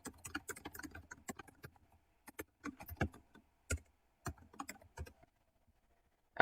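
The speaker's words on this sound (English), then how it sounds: "I'm trying to type real fast." Fast typing on a computer keyboard: rapid irregular clusters of crisp key clicks in quick bursts, broken by short pauses, close and fairly quiet with no voices.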